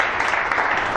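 A church congregation claps in praise to the Lord, a thick, continuous roar of applause from many hands, loud and even throughout the brief moment.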